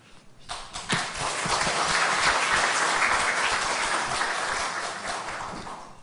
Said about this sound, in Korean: 우리 같이 박수로 크게 힘차게 맞겠습니다.